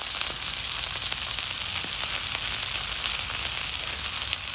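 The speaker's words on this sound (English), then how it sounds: "he's going to put down the steak" A steak sears on a Blackstone griddle, giving a loud, steady sizzle and crackle that holds for several seconds with no talk over it.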